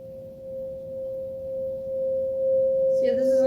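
A crystal singing bowl struck with a mallet rings one steady pure tone, holding evenly for about three seconds before a brief bright rustle at the end.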